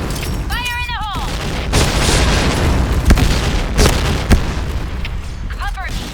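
A grenade blows up in the shooter game Point Blank with a loud, heavy boom that rolls on through several more explosive bursts and gunfire, while short synthetic radio beeps sound at the start and end.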